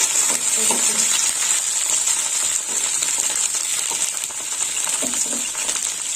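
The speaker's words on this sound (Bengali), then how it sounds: "ভেন্ডিগুলো অনেকটা ভাজা হয়ে গেছে এবার এর মধ্যে মশলা দিয়ে দেবো আস্তে আস্তে" Okra frying in a pan sizzles steadily and close up, with light stirring clinks as spices are added.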